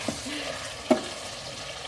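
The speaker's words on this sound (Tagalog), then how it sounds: "Igigisa lang natin yung sibuyas at saka kamatis." Onion and tomato sauté in a hot pan, a steady soft sizzle running throughout with one brief sharp clink or stir near the middle, no voices present.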